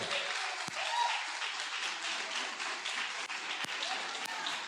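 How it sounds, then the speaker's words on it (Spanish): A church congregation applauds during a sermon, a steady wash of clapping that fills the room at moderate volume and holds without a break from start to finish. "Dios aplaudió, aplaude."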